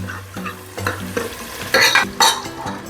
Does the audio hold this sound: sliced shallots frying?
yes